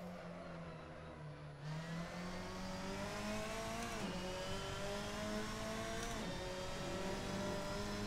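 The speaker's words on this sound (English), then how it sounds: "Keep on over-revving the engine." Race car engine in the Assetto Corsa racing game held at high revs and over-revving, a steady sustained whine with a few sharp dips and surges as it bounces off the limiter, alone without talk.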